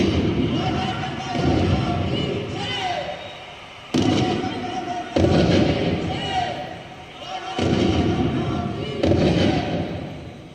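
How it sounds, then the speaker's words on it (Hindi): Several heavy booming blasts of a ceremonial cannon salute ring out in succession, each followed by a rumbling roll, with talk faintly underneath, in a light and sound show. "महाराज गंगाधर राव को कड़क बिजली और भवानी शंकर की तोपों से सलामी दी गई।"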